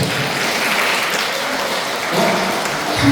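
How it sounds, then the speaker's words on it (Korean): A Catholic parish gathering in a hall applauds briefly, a dense, even patter of many hands clapping at close range that continues steadily for a few seconds. "박수 한번 하세요"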